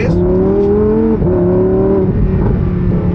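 Lamborghini Huracán Sterrato engine revving in Sport mode, a loud, close, sustained engine drone that holds high revs, dips briefly with a gear change and climbs again.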